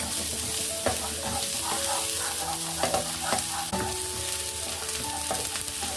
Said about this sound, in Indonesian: panaskan minyak di dalam wajan dan tumis bawang putih cincang hingga harum